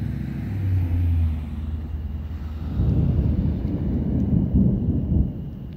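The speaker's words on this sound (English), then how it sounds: "This is an electrified HAARP storm" Deep rolling thunder from an electrified thunderstorm north of Houston, Texas, at evening, a long low rumble that swells and surges again midway, loud and steady throughout with no voices.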